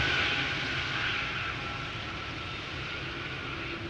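Turkish Airlines Boeing 787 Dreamliner arriving at Amsterdam Schiphol, a steady broadband jet roar that stays loud and even throughout, slowly easing slightly in level, with no talk.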